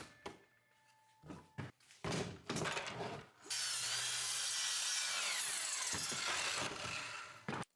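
Miter saw crosscutting 2x10 boards to length in a woodworking shop, a few short handling knocks and clatters leading into a loud, sustained whining cut that runs for several seconds before spinning down.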